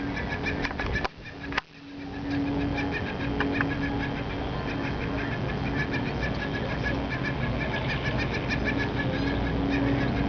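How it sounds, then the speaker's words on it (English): Laughing gulls call from the end of a dock near a black boat, their cries rising and falling over a steady dense wash of outdoor noise, fairly close, with one brief dip early on. "Mating laughing gulls at the end of the dock."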